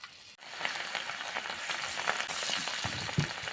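Cauliflower pieces dropped into hot oil to deep-fry, an abrupt start into a dense, crackling sizzle that bubbles steadily, with a few clinks of a utensil near the end.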